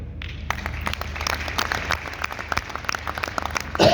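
An audience at a conference closing ceremony applauds, dense steady clapping from many hands filling the hall, moderately loud and sustained throughout.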